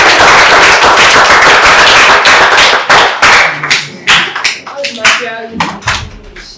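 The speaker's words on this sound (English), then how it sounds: "Please clap for her, babe." A crowd of schoolchildren on an excursion to a naval dockyard claps loudly and densely at first, then the applause thins into scattered individual claps that fade out.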